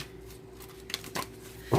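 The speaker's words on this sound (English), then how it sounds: "I'm using my Poppy Pollen deck, guys. You know it's big, so just give me a minute to shuffle." A large tarot deck being shuffled, with soft papery riffles and brief card slaps coming in a few quick bursts over a quiet room hum, ending in a louder shuffle.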